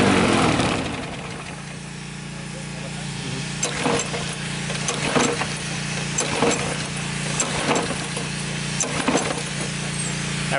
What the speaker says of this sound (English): we're going to start it up and run it dry to make sure all the gasoline in the engine burns out